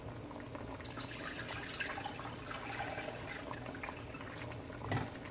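Water pours into a cooking pot at a low level, a soft, steady splashing and gurgling with faint dripping and one louder clunk near the end.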